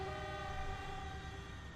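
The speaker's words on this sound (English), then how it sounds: "Listen for the horns." Diesel train horns sound in the Transport Fever video game during a race of single diesel units, as one steady, sustained horn tone held over a faint rolling rumble.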